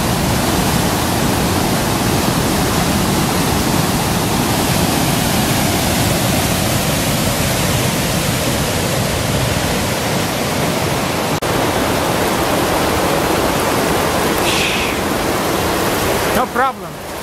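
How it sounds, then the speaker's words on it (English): Twister Falls at Eagle Creek, Oregon roars loudly and continuously from close range as a dense, steady rush of falling water. It stays unbroken nearly to the end, with speech showing up faintly under it. "It's called Twister Falls."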